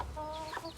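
Chickens cluck softly in a mixed orchard shared with beehives, a few short calls rising over a low steady outdoor background, moderately near.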